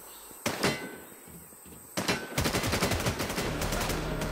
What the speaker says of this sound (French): Il n'y a plus de coup de feu chez vous. Ah si.